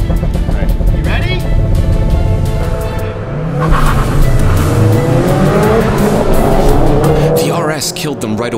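A Honda Civic Type R and a Subaru WRX STI race on a track, engines roaring loudly and continuously with rising and falling revs and tire squeal, while people talk excitedly over the noise.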